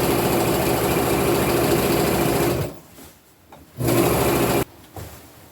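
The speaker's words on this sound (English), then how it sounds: "The reason I love my serger, and it is not hard to thread" Serger sewing machine stitching fabric, a steady loud mechanical whir for a few seconds that stops, restarts briefly, then cuts out again.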